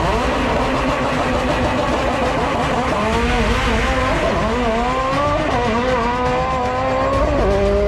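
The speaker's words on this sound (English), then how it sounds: "So I'm gonna actually put a video of their Evo running like, I want to say 7s or 8s or something like that in the video right now." A Mitsubishi Evo race car runs on a drag strip, its engine loud and continuous with a pitch that climbs and shifts through gears, over a constant roar of wind and tire noise.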